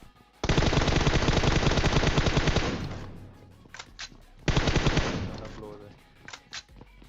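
Two long bursts of rapid automatic gunfire, loud and close, separated by a short pause with a few scattered single shots, in the video game PUBG Mobile.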